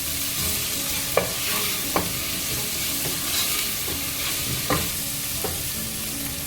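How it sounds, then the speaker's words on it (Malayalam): Sliced onions sauté with salt in a hot pan, a steady close sizzle with a few light clicks of a spoon stirring, no voices. "ഇത് നന്നായിട്ട് വഴറ്റിയെടുക്കണം."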